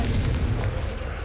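Confringo fire-blast spell going off in Hogwarts Legacy, a loud, dense booming blast with low rumble filling the whole moment, like heavy artillery, with no voices over it.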